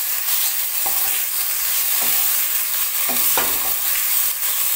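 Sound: frying and stirring potatoes with bay leaf in a pan

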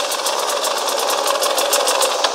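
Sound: KTM EXC 300 motorcycle engine as the clutch is let out

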